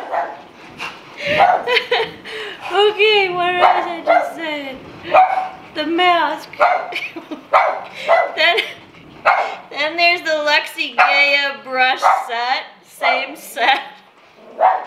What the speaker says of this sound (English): I'm really sorry about the dog barking, you guys